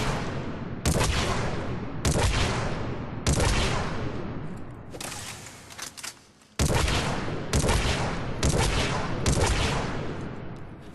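Disciple shotgun blasts from Mass Effect 3 target practice at short range, eight heavy booming shots spaced about a second apart, each with a long decaying tail, with no talking.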